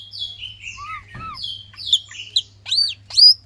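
A green leafbird with a hoarse voice sings a close, loud run of varied whistles and chirps, some phrases slurred and rough, with brief gaps between bursts over a low steady hum.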